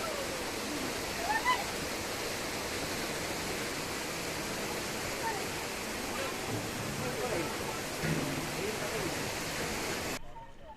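Water rushing through the check gate of Remaala Dam, a steady broadband roar of flowing water holding even for about ten seconds before cutting off abruptly.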